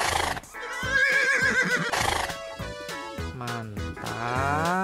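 A zebra in the game Jurassic World Evolution 2 lets out a loud, close, horse-like neigh, a long squealing whinny with several rising and falling bursts.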